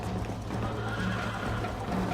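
A horse in the video game Red Dead Redemption whinnies loudly over close hoofbeats, with the tonal neigh running across the short stretch alongside the clopping.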